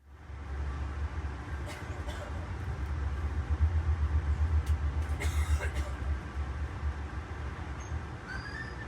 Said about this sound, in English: As we pull into the historic train shed, we're now under electrification.